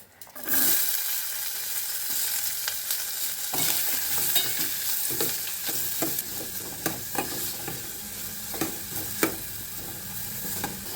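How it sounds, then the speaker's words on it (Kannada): Finely chopped onion hitting hot oil with mustard seeds and curry leaves for green peas kurma, giving a steady close-up sizzle with occasional stirring scrapes and clinks against the pan. "ಈಗ ನಾವು ಚಿಕ್ಕದಾಗಿ ಕಟ್ ಮಾಡಿರೋ ಈರುಳ್ಳಿ ಹಾಕ್ಕೊಳ್ತಾ ಇದ್ದೀನಿ"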